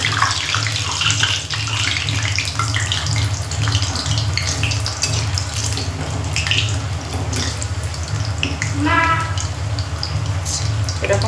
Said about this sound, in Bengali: বাকিগুলোও আমি দিয়ে দেবো, এভাবে লাল করে সবগুলো ভেজে নেবো।